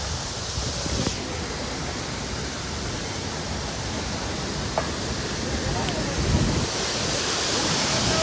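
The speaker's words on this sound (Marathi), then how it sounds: "आपल्याला एक अजून धबधबा लागलेला इथे वरती मस्तपैकी" A waterfall on the Kedarnath trek roars as a steady, dense rush of water, loud and continuous throughout, with wind buffeting the microphone at moments.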